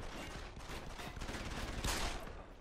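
Gunshots in Deus Ex: Human Revolution, dense continuous rattling fire at steady moderate loudness, with a heavier blast swelling near the end.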